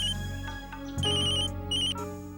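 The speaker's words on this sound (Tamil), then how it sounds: "அவன் மறுபடியும் ஏன் ஃபோன் பண்றான்?" An incoming call's phone ringtone plays a bright electronic melody of repeated high tones, loud and close, over a steady background hum.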